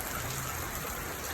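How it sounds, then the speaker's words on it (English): Steady rain falls in a dense, even hiss, a constant wash of drops on surfaces with no pauses, close and moderately loud, with no voices over it. "Rain don't stop."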